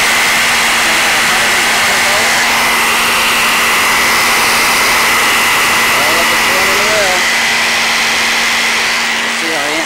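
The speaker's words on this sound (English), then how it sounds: "Got my shop vac turned on and I'll squeeze the handle of my jigsaw at the same time." A shop vac and a jigsaw run together off a homemade power inverter, a loud steady whine and roar with a sustained tone, close up and continuous for ten seconds.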